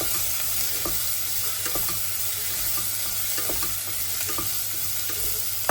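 Spices stir-fried in hot oil in a pan for masala rice give a steady, close sizzle with a soft crackle. Spoon scrapes and stirring taps recur through it, and no voice is heard.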